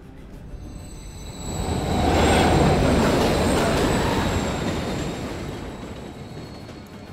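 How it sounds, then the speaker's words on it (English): A train in a tunnel in the video game Call of Duty Modern Warfare 3 rumbles as it approaches, swelling to a loud roar midway before easing off, with a thin metallic screech above it. "Another train coming."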